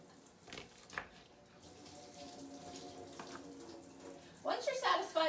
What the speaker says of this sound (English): I'm going to have you keep on rinsing it until it's not.